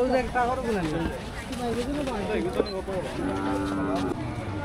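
A cow lets out a long low moo near the end while people talk over a busy outdoor cattle market background in Sylhet.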